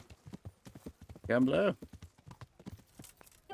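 Horse hooves clip-clop steadily during horseback riding in a video game, with people talking over them throughout and a brief louder voiced burst midway.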